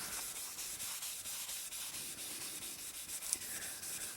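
Steady abrasive rasping of sandpaper rubbing over a wooden walking stick during restoration, a continuous close scratchy texture in even back-and-forth strokes with one small click near the end.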